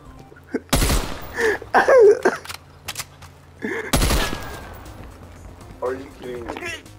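Bursts of gunfire ring out during a Call of Duty: Black Ops Cold War match, two loud, sharp volleys a few seconds apart, with a player talking excitedly between and after them.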